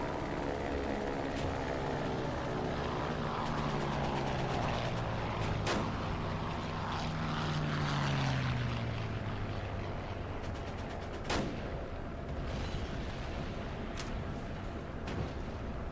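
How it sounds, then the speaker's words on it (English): In the WWII Online battle, engines drone steadily and far off, with aircraft pitches sliding down and sharp isolated gunshot cracks scattered across a continuous dense rumble. "The sound of battle. That's what I want you to listen to. All the different engines."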